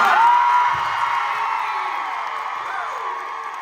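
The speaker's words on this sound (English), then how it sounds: "everybody cheer for Haley because she hates it" An audience cheering for Haley at a live show, a loud sustained wave of crowd cheers and whoops that slowly fades, with individual yells standing out.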